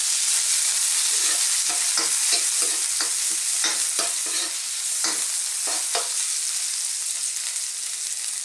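Garlic and onion sautéing in hot oil in a wok gives a continuous bright sizzle, punctuated by a quick irregular series of sharp spatula clacks and scrapes against the metal, close and fairly loud.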